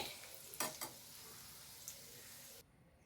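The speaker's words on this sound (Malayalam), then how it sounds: "അണ്ടിപ്പരിപ്പ് മുന്തിരി വറന്നിരിക്കുന്നത് ഞാൻ ഗ്യാസ് ഓഫ് ആക്കണേ ഇതിലേക്ക് ഒഴിച്ചു കൊടുക്കട്ടെ" Fried cashews and raisins tipped into a pot of fruit payasam give a steady soft sizzle, with a couple of brief clinks and stirring scrapes near the start before the sound cuts off.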